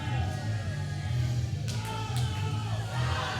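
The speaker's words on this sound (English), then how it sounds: "just listening to this crowd here" Wrestling arena crowd at a UCW ZERO event, a loud steady roar of cheering and yelling with brief bursts of louder shouts rising partway through.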